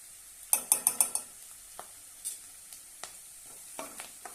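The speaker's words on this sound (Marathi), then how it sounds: "छानपैकी परतून घेऊया" Ginger garlic paste and curry leaves crackle in a pan, opening with a quick burst of four sharp spitting pops, then a low sizzle broken by scattered spoon scrapes and clinks, close by.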